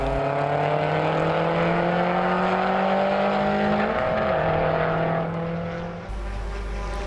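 A Legacy race car runs off the track at Hampton Downs during a Superlap round. A loud, steady engine drone holds close by, its pitch wavering midway before the tone shifts abruptly near the end.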